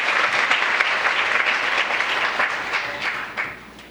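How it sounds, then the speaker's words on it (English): A large conference audience at an international youth peace gathering breaks into sustained applause after closing remarks, dense steady clapping that holds for the whole stretch and thins slightly toward the end. "Please give a warm round of applause to General Director Young-min Chung for that closing"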